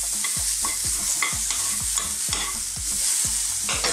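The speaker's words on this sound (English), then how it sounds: "Just stir fry away." Beef for a Chinese beef and green bean dish stir fried in a wok, a steady loud sizzle broken by a regular rhythm of sharp scraping spatula strokes about twice a second, close and alone with no talk.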